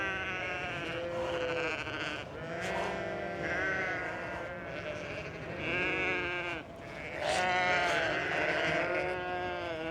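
A flock of sheep bleating in a field, many overlapping wavering calls, loud and close, continuous throughout with no talk.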